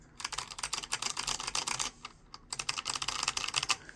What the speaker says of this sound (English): this is the MX mount version of the SMK second generation clicky switches